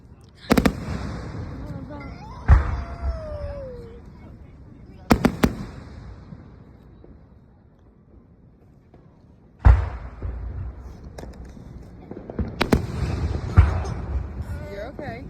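Fireworks explode outdoors in several bursts, sharp cracking bangs followed by crackling tails and quieter gaps, with people talking faintly in between.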